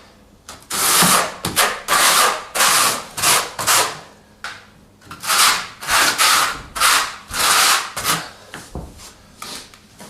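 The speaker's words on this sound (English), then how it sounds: "So again, with a trowel, just work it away from the tiles." Trowel spreading tile adhesive across a floor, a run of rhythmic rasping scrapes in repeated strokes, close and fairly loud with brief pauses between passes, and no talking.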